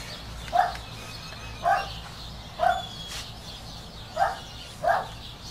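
A person imitates a dog barking with five short, evenly spaced vocal "bow-wow" yips, each a brief, clear burst over quiet background.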